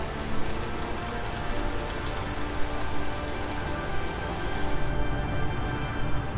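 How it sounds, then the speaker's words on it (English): Heavy rain in the video game Heavy Rain pours steadily, a dense hiss of drops striking surfaces close by, continuous with no voices. "Wow, this rain is sure heavy."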